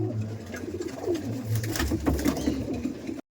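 Madrasi pigeons coo in low, rolling, overlapping calls close by, continuing steadily before stopping abruptly.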